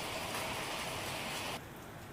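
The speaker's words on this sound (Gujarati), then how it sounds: "ભરૂચ શહેરમાં પણ પવન સાથે વરસાદ આવ્યો છે" Unseasonal rain falls hard in wind over Bharuch city, a dense steady hiss of drops on surfaces that suddenly softens near the end, with no voices.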